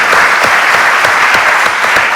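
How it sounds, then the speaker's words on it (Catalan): A loud, dense burst of applause from a crowd fills the space evenly, sustained and close without pause. "Em sembla que es mereix un aplaudiment"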